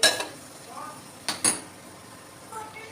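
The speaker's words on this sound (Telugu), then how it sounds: "ఇప్పుడు స్టవ్ వెలిగించుకుందాం ఒక గిన్నె పెట్టుకోవాలి" A cooking pot is set down on a stove before making chicken curry, giving a few light metallic clanks and clinks against a quiet kitchen background.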